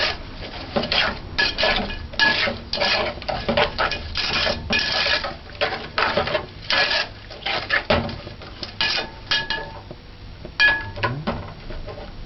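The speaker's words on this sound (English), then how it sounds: "Now add your sugar. Just kind of stir it up." A spoon scrapes and clinks against a pot while stirring sugar into a coconut mixture for coconut drops, with irregular close taps and rubbing strokes and a brief pause near the end.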